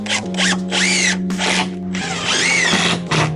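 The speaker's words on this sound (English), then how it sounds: "Then you just fire your screws in." Power drill driving screws into decking boards, with a straight-edge guide of 3x2 timber; a steady motor whine rises and falls in several bursts as screws go in, close and loud.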